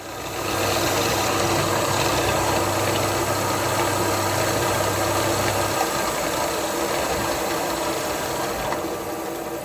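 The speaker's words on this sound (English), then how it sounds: "And I drill the middle part with 5/16 bit." A drill boring into wood with a 5/16 bit, a steady loud motor whine and hum running continuously, its tone shifting partway through as the bit cuts, with no talking.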